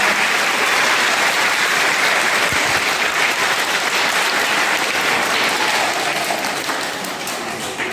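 A school audience at an Independence Day (15 August) celebration claps loudly and steadily, a dense, continuous wave of applause that holds for several seconds and only tapers slightly near the end.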